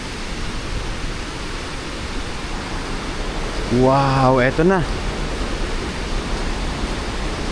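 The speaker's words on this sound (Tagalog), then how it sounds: "Dito, narinig mo yung lagaslas ng ilog." A river's water rushes in a steady broadband roar in a natural park, with a person briefly speaking over it partway through.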